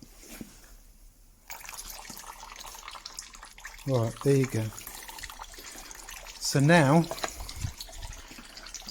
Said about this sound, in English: There isn't loads of water instantly pouring out.